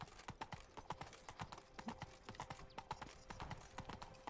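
Roach, a horse in The Witcher 3, trots with steady rhythmic clip-clopping hooves, fairly faint, with a brief snort or whinny and no speech.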